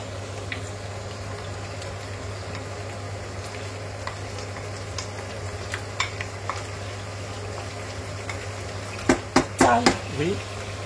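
Shallots and onion cook gently in melted butter over low heat for a rabbit in Roquefort sauce, a soft low sizzle under a steady hum, with a few light clinks and scrapes near the end.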